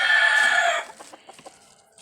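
A chicken gives a loud, drawn-out squawk up close, followed by a few softer clucks trailing off.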